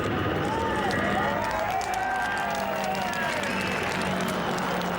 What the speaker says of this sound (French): le public salue l'exploit par un tonnerre d'applaudissements